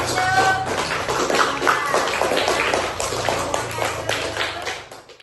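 Elementary school pupils clap for a classmate after a water-cycle class presentation, a dense, steady patter of small hands with a few voices mixed in, tapering off at the end.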